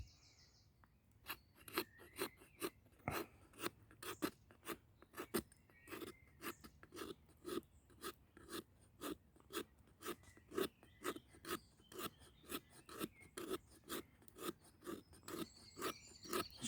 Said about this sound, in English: then we're going to scrape it nice and slowly.